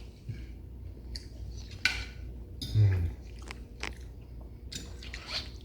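Close, crunchy chewing of creamed cabbage and sausage, with several bites and soft mouth sounds over a low background.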